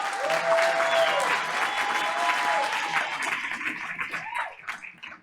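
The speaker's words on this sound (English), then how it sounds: "So let's give her a round of applause." Audience at a school district board of education meeting breaks into sustained applause, loud and steady at first, then thinning out toward the end, with a few voices mixed in.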